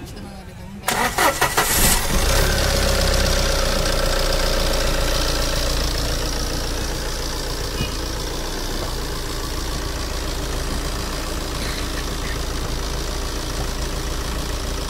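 A Tata Safari engine, fitted with replaced injectors but still running rough, cranks and catches after about a second, then settles into a loud, continuous, slightly uneven idle rumble close by.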